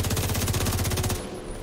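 Rapid automatic gunfire from The Division 2 video game rattles off in one loud, continuous burst of evenly spaced shots, then cuts out abruptly into a quieter tail.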